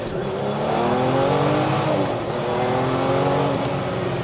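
A 750-horsepower air-cooled Porsche prototype with carbon bodywork accelerates hard through its gears, its engine note rising in loud, steady sweeps close to the microphone with brief dips at each shift and no one speaking.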